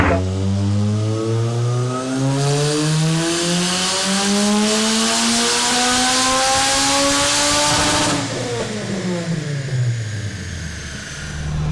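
An SR20-powered car revs hard and close, its engine note climbing steadily for about eight seconds before the throttle drops and the revs fall away, loud throughout with no talk.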